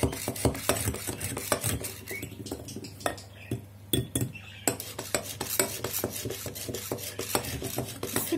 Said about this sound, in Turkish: İyice çırpalım.